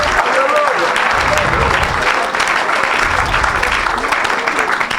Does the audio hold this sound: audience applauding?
yes